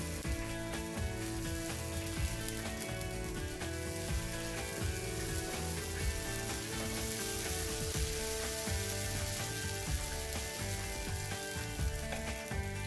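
Dosa batter sizzles steadily on a hot pan as it is spread in circles, a continuous crackling fry with faint scraping and clicking throughout, close and fairly loud.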